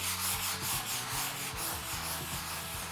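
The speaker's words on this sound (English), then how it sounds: "using a stiff bristle brush, we're going to scrub it in" A stiff bristle brush scrubs cleaner and degreaser into concrete with repeated rhythmic back-and-forth strokes, a loud close abrasive swish without speech.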